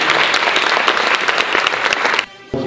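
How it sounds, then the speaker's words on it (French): An audience at a film screening applauds the director and actors with loud, dense clapping that cuts off abruptly near the end, then a brief burst returns. "Ils méritent à nouveau vos applaudissements"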